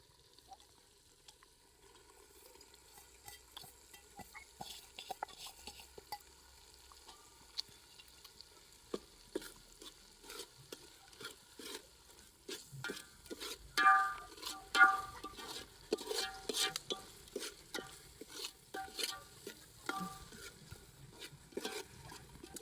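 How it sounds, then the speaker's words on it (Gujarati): Flat beans and other vegetables being stirred and fried in a pan for an Indian curry, a soft steady sizzle with scraping stir strokes that grow busier midway, close and fairly quiet. "હવે આપણે નાખવાનું છે સીમ ને એવું બધું."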